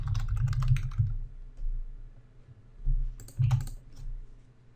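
Fingers typing an Excel formula on a computer keyboard, with quick clusters of key clicks in two short bursts separated by a quieter pause, close and fairly soft, with no speech.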